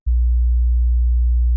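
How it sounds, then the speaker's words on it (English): A steady low sine wave tone, produced as a rumble layer for thickening a kick drum, switches on abruptly and holds constant and loud before cutting off sharply. "So now the idea is you're gonna include this low rumble sound"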